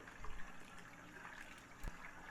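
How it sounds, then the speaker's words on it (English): Wort for an English ale splashing from a height into a fermenter, a faint continuous watery pour with a small splash burst near the end. "I'm actually splashing the wort from quite a height here."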